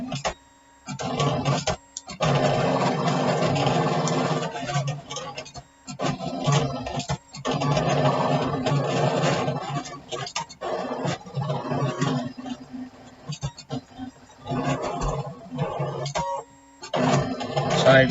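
An embossing machine turns round and round, giving a steady mechanical clatter with repeated ticking and scratching, close and fairly loud, broken by a few brief pauses.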